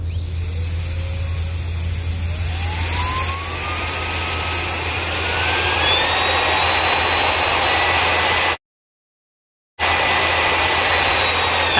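A tiny electric ducted-fan jet engine run on a 2-cell 2200 mAh LiPo battery screams as it spins up, its whine rising steadily in pitch into a loud, continuous high roar, with a brief total dropout near the end.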